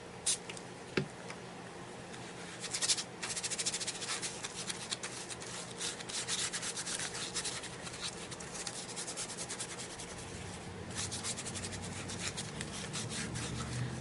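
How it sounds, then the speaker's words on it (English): Watercolor crayons rubbed across a journal page give a steady, close scratchy scraping, a continuous soft dry rubbing with a few sharper taps near the start. "Just put the color on the page like you're coloring with a crayon."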